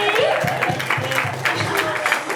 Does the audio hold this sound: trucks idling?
no